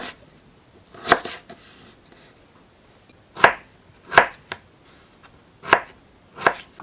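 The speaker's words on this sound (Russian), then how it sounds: "Режем, друзья, кубиками." A knife chopping potatoes into small cubes on a board in a village kitchen, about seven separate sharp chops spaced irregularly with quiet pauses between, close and clear with no talking.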